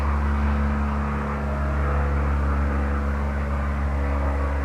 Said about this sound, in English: As you are listening to that aeroplane